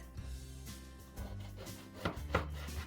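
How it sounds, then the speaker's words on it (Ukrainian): A knife cuts through a baguette for bruschetta, giving a handful of separate crunchy chops in an uneven rhythm, close and moderately loud, over low background music with no voices. "Але спочатку ми нарізаємо багет"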